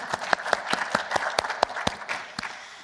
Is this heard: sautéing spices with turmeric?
no